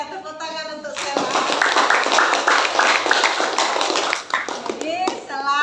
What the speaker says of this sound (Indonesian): Ya, tepuk tangan untuk Sela.